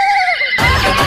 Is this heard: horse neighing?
yes